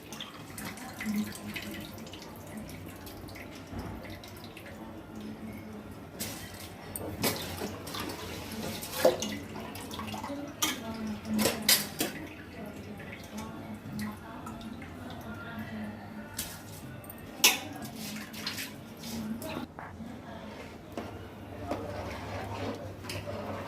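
Rice being washed in water for pulav: a steady soft trickle and slosh of water with scattered splashes and clinks over about twenty seconds, close, with a voice talking at times.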